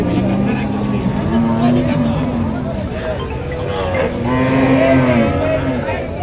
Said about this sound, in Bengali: এই পাশেও দেখেন অনেক গাভী গরু উঠেছে